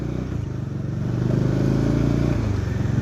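A motorcycle weaving side to side in a slalom during riding training, its engine note pulsing and rising as it accelerates, heard close with a steady throbbing rhythm.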